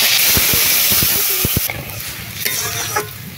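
Water hitting hot oil with chili powder, turmeric and cumin paste, a loud burst of sizzling hiss that crackles and then gradually settles, close up and with no talk.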